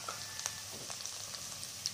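Finely chopped tomato fries in a pan for Maggi noodles, a faint, soft sizzle with scattered small pops and crackles throughout, no voices.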